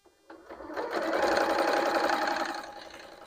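A sewing machine with a 1/4 inch foot stitches a 1/4 inch quilting seam in a steady whirring run of about two seconds that starts and stops cleanly.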